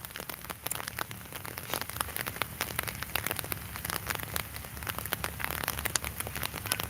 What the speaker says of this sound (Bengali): কিন্তু তারপরও বৃষ্টি হচ্ছে